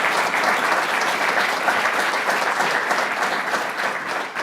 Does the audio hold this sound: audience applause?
yes